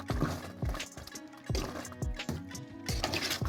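A spoon stirs a spicy Indian-style duck curry in a pot, knocking against the pot in a steady run of close, rhythmic clunks and wet sloshes.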